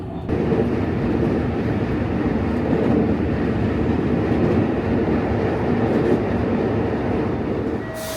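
A one-car Tarumi Railway train in Japan rumbles steadily along the rails at close range, a constant low roar with faint clatter and a brief high squeal near the end.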